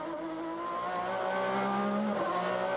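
Onboard sound of Donohue's GTS Mustang racing at Mid Ohio, a loud, continuous engine roar holding and rising in pitch under load, close and dominant.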